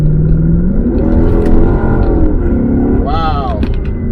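1998 Lexus SC400 engine pulling in second gear, a loud droning rev that climbs in pitch from inside the car, with someone talking over it.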